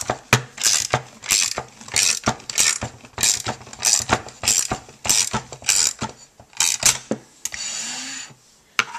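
Manual embossing machine cranked with a handle, feeding a paper card through in a steady series of loud, close ratcheting clicks and clacks that pause briefly near the end.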